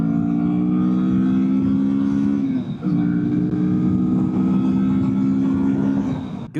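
A Kawasaki Vulcan S cruiser motorcycle rides along with a steady, loud engine drone, briefly dipping as if shifting gear midway before resuming, with wind rush mixed in.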